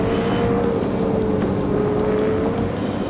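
Mid-engine, rear-wheel-drive sports car idling with a steady, mechanical engine note and a faint whine, running continuously and fairly loud throughout.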